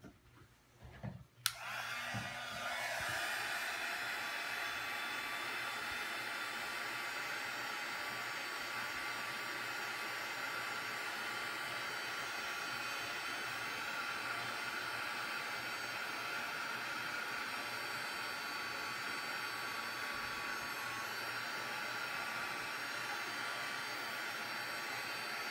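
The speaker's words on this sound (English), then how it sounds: "last thing to do is take the heat gun to it to get that embossing up" A heat gun warms embossing powder on a handmade watercolor card. After a click it switches on and blows a steady, loud, hissing airflow that runs unbroken to the end, with no talk.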